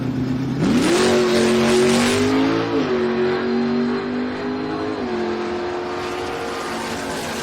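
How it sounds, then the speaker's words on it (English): A 1969 Plymouth Valiant making a single drag-racing pass at a drag strip, its engine revving hard and climbing through gear changes, loud and close, then holding a strong steady drone as it pulls away. "A single pass here for the Mopar on the right-hand side of the racetrack."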